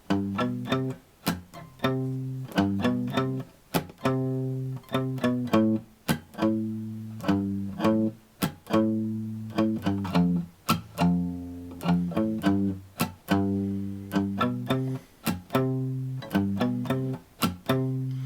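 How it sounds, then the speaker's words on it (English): Rhythmic acoustic guitar strumming of a song intro, with chords broken up by short palm-muted percussive chops, played steadily and close, no voices. "you're going to be palm muting your strings"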